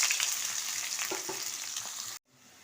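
Three large onions fry in hot mustard oil with a bay leaf in a frying pan, giving a close, steady hissing sizzle with a few soft stirring taps before the sound cuts off abruptly near the end.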